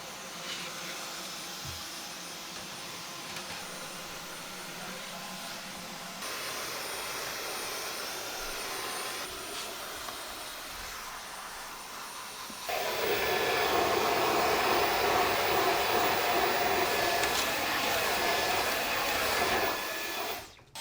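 A Dyson Digital Slim Fluffy+ cordless vacuum cleaner runs with a steady whining roar that grows louder midway, then louder still as it works, with no talking.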